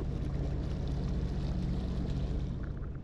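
Sea-Doo Wake personal watercraft running on calm water on a still day, a steady low engine drone mixed with continuous splashing hiss of the hull, moderately faint and alone.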